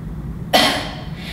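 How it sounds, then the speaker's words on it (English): A single sharp cough, close and fairly loud, bursting out after a quiet moment and trailing off quickly. "you're gonna take a deep breath in and then you're gonna have a cough."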